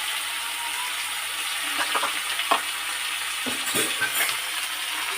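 Vegetables frying in a hot pan, a steady loud sizzle with a few scraping stirs of a spatula partway through.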